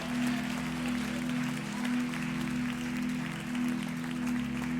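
A church congregation applauds steadily throughout, a moderate wash of clapping over a sustained low tonal hum, likely organ or keyboard, at a missions service.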